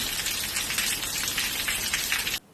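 Steady, dense rain falling, a loud continuous hiss that fills the clip and cuts off abruptly near the end, with no voices over it.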